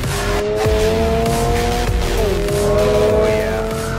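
A 2022 Subaru BRZ sports car accelerates hard, its engine revving loud and steady as the pitch climbs and shifts between gears, close and alone without talk.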